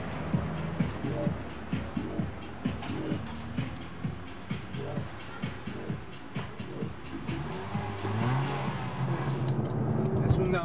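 A Peugeot RCZ coupe with a 1.6-litre four-cylinder engine during a test drive, its engine note rising and falling in repeated revving pulses, then building to a steadier drone, with someone speaking over it.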